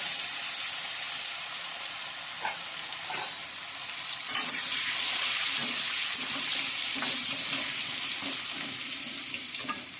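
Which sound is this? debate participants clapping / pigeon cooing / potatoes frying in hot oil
potatoes frying in hot oil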